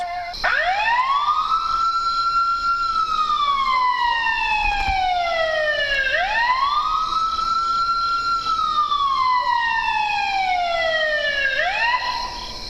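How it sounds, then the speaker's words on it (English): A recorded wailing siren sweeps slowly up and down in long repeating cycles, loud and steady, with no voices. "He also tried some siren sounds."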